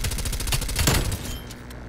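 Rapid automatic fire from a gold MP5 in a video game, a fast even stream of shots that tapers into a few spaced final rounds.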